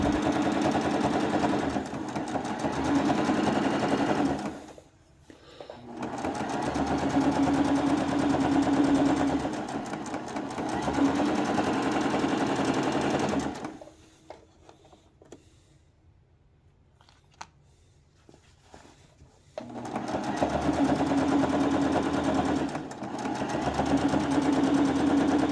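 A sewing machine stitches hems on a tabard in close, loud runs of rapid whirring, stopping for short pauses and one longer break before starting up again.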